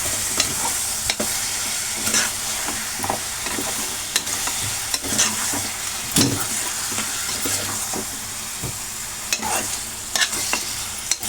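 Mutton pieces fry with salt in a pan, a steady sizzle broken by repeated scraping and clattering stirs of a spoon against the metal, close and continuous.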